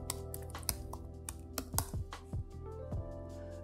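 Password typed on a computer keyboard while installing a Mac app, a run of crisp, irregular key clicks close by, a few louder taps near the end, with no talking.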